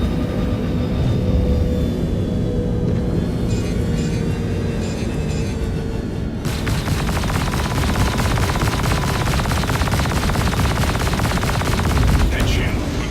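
Rapid, sustained gunfire pounds a spaceship's shields in Star Citizen, a loud, dense metallic rattle that swells partway through and continues unbroken over a rumbling engine background.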